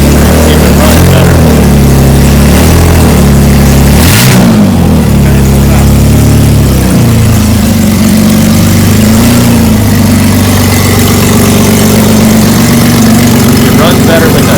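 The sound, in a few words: Chevrolet Malibu engine running with O2 sensors removed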